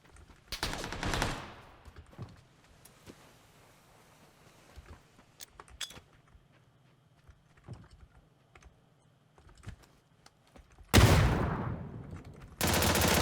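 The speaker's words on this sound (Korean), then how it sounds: "저기로 들어가서 쏘겠다" Suppressed FAMAS fire in PUBG on the Sanhok map: a dense burst near the start, quiet faint game ambience through the middle, then two more loud bursts close together at the end.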